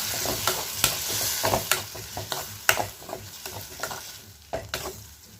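Vegetables stirred in a hot frying pan, a spoon scraping and clacking against the pan in irregular strokes over a soft steady sizzle, close and fairly quiet.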